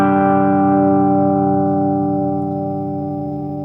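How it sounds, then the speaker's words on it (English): Distorted electric guitar tone run through sigmoid soft-clipping distortion in Python, a single sustained chord rich in harmonics that rings loud and alone, slowly decaying over a few seconds. "Sigmoid distortion."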